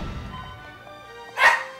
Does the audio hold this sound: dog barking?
yes